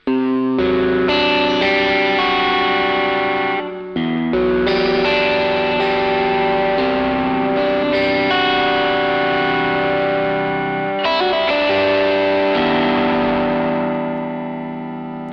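A Cole Clark Hollowbaby guitar rings out heavily distorted, sustained chords droning and overlapping with a thick, saturated tone that holds steady throughout.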